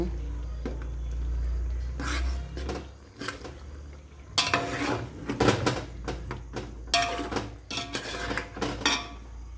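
A spoon scrapes and clinks around a pot of white chicken biryani with mint and chilies, with irregular bursts of stirring and metallic knocks, fairly close and loud, and a low hum underneath.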